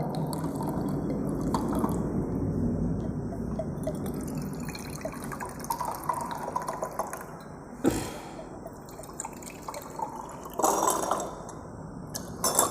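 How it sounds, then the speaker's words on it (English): Water pours and trickles into glass beakers, 100 ml each, a steady liquid splashing with a few sharper drips and clinks toward the end. "I have poured 100 ml of water in all the 3 beakers"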